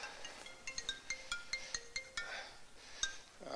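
A mobile phone ringtone chimes through a hospital grand rounds lecture hall, a repeating melodic sequence of bright tones at moderate distance that carries on for several seconds before fading.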